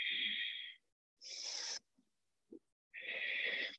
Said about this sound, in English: Settle your breath up. Make it strong.